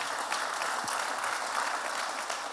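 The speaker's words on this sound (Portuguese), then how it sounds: "Quem tem uma promessa de Jesus, aplauda bem forte o nome do Senhor Jesus nessa manhã." Steady applause from a church congregation during a morning service, moderately loud and continuous over a couple of seconds, many hands clapping together with no voices on top.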